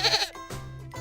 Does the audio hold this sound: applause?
no